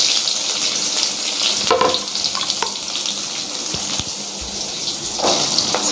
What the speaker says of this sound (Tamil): சுக்குமல்லி நல்லா கொதிக்குது பாருங்க.